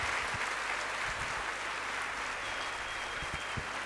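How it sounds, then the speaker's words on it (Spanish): Applause from the audience at a biochemistry and pharmacy congress lecture in Bolivia, a brief, even wash of clapping that stays steady throughout. "Si hay un fuerte aplauso"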